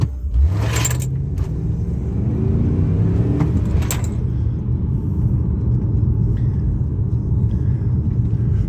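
A car being driven, with a steady low engine rumble and road noise throughout and a brief rising engine note near the start; a few faint jangling or rattling sounds appear early on.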